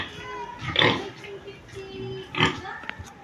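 A heavy, well-fed pig in a backyard pen gives a few close, rough grunts and snorts in short bursts separated by quieter pauses, with no talking.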